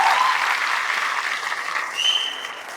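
Audience clapping at a NEET PG exam-prep event, a steady dense wash of many hands lasting throughout, fairly loud with a faint voice briefly over it near the end.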